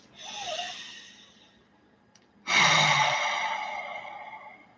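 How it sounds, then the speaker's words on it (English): Deep breaths during a guided relaxation: one long inhale, a pause, then a louder, slow sighing exhale, close and breathy with no speech. "Let's breathe."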